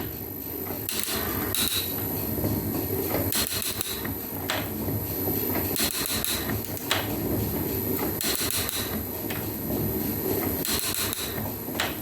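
A metal planer peels a chip off a metal workpiece, with repeated scraping and clunking strokes of the cutting tool at a steady rhythm, close and moderately loud over a constant high machine whine.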